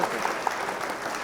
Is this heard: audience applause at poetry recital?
yes